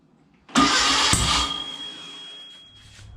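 A Volkswagen 1776cc air-cooled engine fires up for the first time after a sharp cranking burst, catching and running loud and close, then settling into a steadier idle that slowly quiets.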